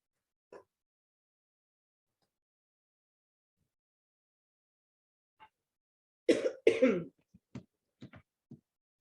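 A soft throat clear, then a couple of louder coughs followed by a few short, quieter coughs in otherwise near silence.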